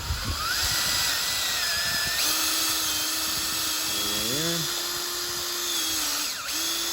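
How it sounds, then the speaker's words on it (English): A steady, high-pitched drill whines continuously as it bores at an upward angle into a maple tree trunk, with a pitch shift partway through and a constant mechanical hum underneath. "when I actually go to drill, I'm going to drill at an upward angle"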